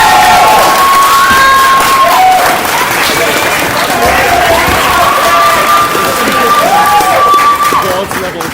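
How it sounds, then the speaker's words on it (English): A crowd claps and cheers at a 2015 student guild debate, a loud sustained wave of applause with whoops and shouts that fades slightly toward the end. "World's level claps, I'd say."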